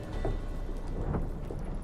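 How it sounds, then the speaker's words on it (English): Thunderstorm with heavy rain at sea in the video game Witcher 3, a dense steady rain wash with a low rumbling roll of thunder underneath, loud and close throughout with no talk. "Didn't bargain for no storm."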